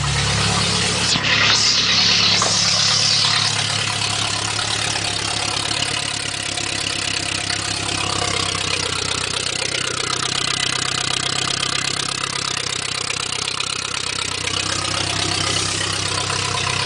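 Fiat Tempra turbo engine running on alcohol fuel with a K27 turbo, started for the first time with no exhaust or radiator fitted. It cranks briefly, catches, then settles into a loud, steady, raw idle with no voices.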